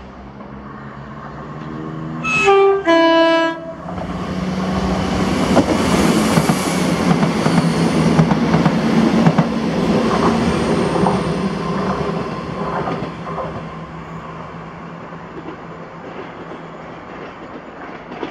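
A ScotRail service from Edinburgh to Inverness sounds two short horn blasts, then passes through Blair Atholl with a swelling rush and clatter of wheels that slowly fades into the distance.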